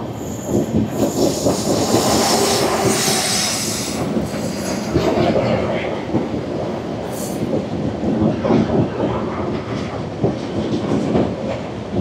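The Garib Rath Express rounds a curve while a goods train passes alongside, with loud, continuous wheel squeal and rumbling clickety-clack steady throughout from close inside the moving train.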